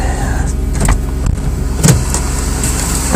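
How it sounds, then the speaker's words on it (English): A 1998 Oldsmobile LSS engine runs at a steady idle just after a cold start on a winter day, a loud continuous low drone with a couple of brief clicks or knocks, no talking. "that's our cold start. So let's check the motor."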